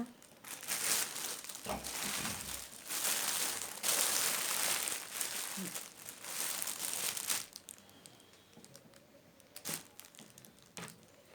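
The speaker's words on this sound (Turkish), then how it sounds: "Şöyle açalım kargonun paketini" Cargo parcel packaging is torn open and handled, producing loud, close crinkling and crumpling plastic or paper bursts with tearing, fading to quieter rustles near the end.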